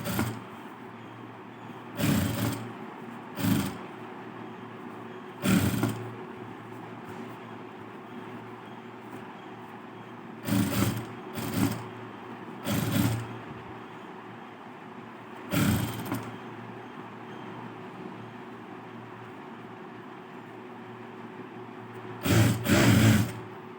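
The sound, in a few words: sewing machine stitching blouse design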